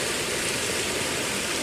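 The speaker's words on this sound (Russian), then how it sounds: "А вот там речка текет." A river swollen from a spilling spring stream flows past a tent pitched in a forest, heard as a continuous, dense, even rushing of water, close and steady with no voices.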